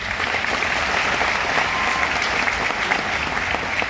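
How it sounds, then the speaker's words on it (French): Sustained applause from an audience at a Cameroonian entrepreneurship event, a dense, steady wash of clapping that holds evenly through the whole stretch without pause. "il mérite nos applaudissements."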